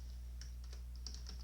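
Typing on a computer keyboard produces a handful of light, quick key clicks in an irregular rhythm, faint over a low steady hum, with no voices.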